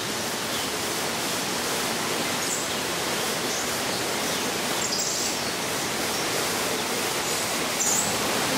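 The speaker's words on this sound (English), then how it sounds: "There's a man-made waterfall in here." A man-made waterfall inside the San Diego Zoo aviary gives a constant broadband rush of falling water, steady and fairly loud, with faint bird chirps above it.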